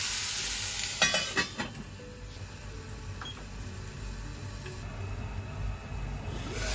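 Food for a bento frying in a pan, a loud steady hiss and sizzle close by, with a few clatters and scrapes early on and no talk.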